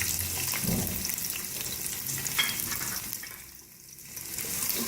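A medium onion frying in half a cup of hot oil in a pan, a dense close sizzle with crackling and stirring scrapes that dips briefly before surging again; no one speaks.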